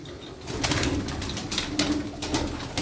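Turkish tumbler pigeons coo in a loft, throaty rolling calls repeating close by, with a faint flutter of wings and a low steady background.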